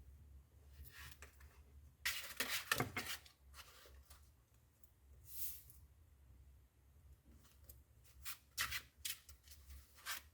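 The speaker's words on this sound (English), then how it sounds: "let's start by shuffling the card" Tarot cards being shuffled during a card reading: soft papery riffling and rubbing in a few bursts, with quiet gaps and a low steady hum underneath, fairly close.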